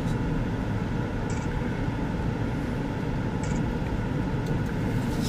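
Freight train with double-stack container cars rolling past, a steady broadband rumble and rattle of wheels on rails holding constant throughout with no voices.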